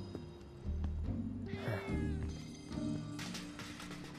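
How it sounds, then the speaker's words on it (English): A cat meows repeatedly in the video game Final Fantasy VII Remake, clear and fairly close, with a drawn-out cry in the middle over steady game music and ambience. "Such a cute kitty. Can I pet the cat?"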